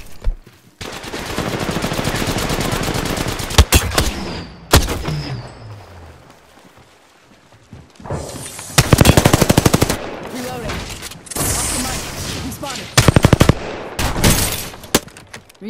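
Automatic gunfire in Apex Legends, several loud rapid bursts separated by quieter gaps, with short shouted callouts between them.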